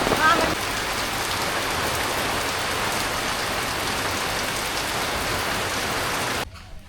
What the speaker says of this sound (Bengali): সকালবেলায় বৃষ্টি ঘুমে থেকে ওইটা দিয়ে ফোটা ফোটা বৃষ্টি পড়বার লাগছে তেমন জোরেও না